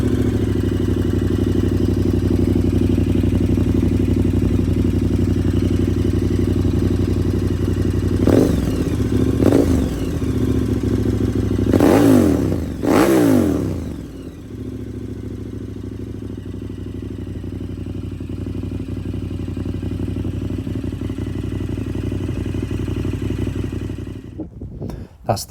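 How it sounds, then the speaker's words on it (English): KTM 1290 Super Adventure motorcycle with its stock exhaust baffles removed, revving loudly close by in a few sharp blips over a steady deep idle that then settles back to a rumble. "And this is Chris's exhaust with the baffles out"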